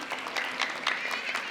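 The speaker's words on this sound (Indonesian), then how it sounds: "Tepuk tangan dulu boleh dong semuanya." A studio audience applauds at a televised family show, a fairly faint, continuous patter of clapping with a few louder bursts.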